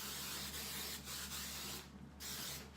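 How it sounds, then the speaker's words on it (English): Hairspray hisses onto freshly curled hair in a close, continuous spray, with a short pause near the end before spraying resumes. "Okay, now I'll spray it."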